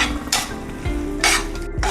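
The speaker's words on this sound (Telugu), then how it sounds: "ఇది మొత్తం కర్రీ మొత్తం కలిసేలాగా కలుపుదాం." A spoon stirs a dry curry of fried potatoes and peas in a pan, giving a few short scraping strokes against the metal over a soft sizzle, close and brief.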